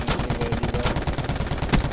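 Rapid automatic gunfire in the battle royale game Call of Duty Blackout, a fast steady burst of shots with a couple of heavier cracks near the end, loud and close with no talking over it.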